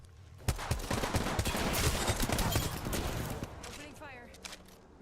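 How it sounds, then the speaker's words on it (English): Gunfire in a battle royale video game, with dense bursts of rapid shots packed close together and loud at first, then thinning out into a few scattered cracks and a short electronic warble at the end. "Opening fire."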